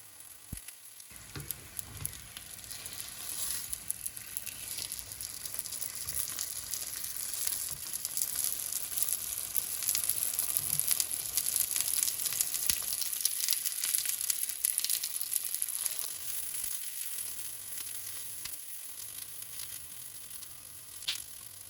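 Chicken crepes fry in oil in a pan with a steady, close hiss and crackle that holds for the whole stretch, with occasional soft scrapes and no talking.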